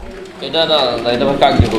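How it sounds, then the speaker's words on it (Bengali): A pair of large pigeons cooing close up, a few throaty rolling coos over about two seconds, mixed with a voice talking. "এখানে একজোড়া কবুতর রয়েছে তো নটটা আলহামদুলিল্লাহ অনেক চমৎকারভাবে ডাকারি করতেছে"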